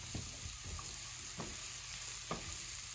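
Raw carrots, onion and garlic stir-frying in a pan for fried rice, a steady close sizzle with soft intermittent scraping and stirring clicks, no talk.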